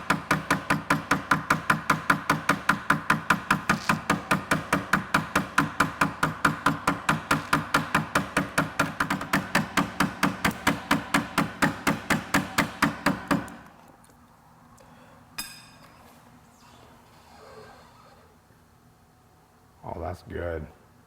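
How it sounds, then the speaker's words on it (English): A hammer taps metal cable end pieces on a Vespa P200 scooter rapidly and steadily for a long run of even strikes, then stops, leaving quiet with a few faint knocks. "you really want to make sure that you hammer these things all the way down"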